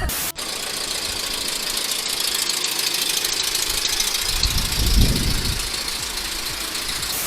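A car engine runs steadily as the vehicle pulls away, a continuous low rumble that swells briefly as it accelerates, then settles back, fairly loud and with no talking.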